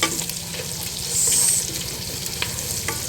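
Onion and garlic sautéing with browning meat, alongside string beans and squash, in a pan: a steady sizzle with faint stirring scrapes and a brief louder hiss partway through, no talk.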